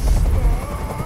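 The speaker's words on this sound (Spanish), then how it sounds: "¡Ya no resisto más ese ruido! ¡Haz que ese helicóptero se vaya!" A helicopter in a video game makes a low, throbbing rotor rumble with a steady mechanical hum on top, loud and continuous for about a second.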